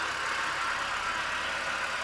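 A BMW 335i wagon engine runs steadily under an open hood, a continuous mid-pitched hum with no breaks, close and fairly even in loudness.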